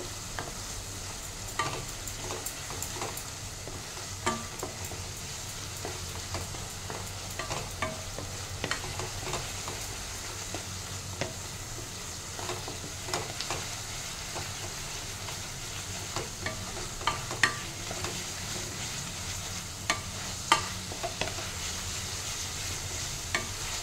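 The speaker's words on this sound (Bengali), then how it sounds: "যতক্ষণ এই মশলা থেকে তেল ছাড়ছে ততক্ষণ অবধি আমি কষিয়ে নেব।" Spice masala for a fish head and potato curry frying in oil while being stirred, a constant close sizzle with repeated scraping strokes and small ticks of the spoon against the pan throughout, no talking.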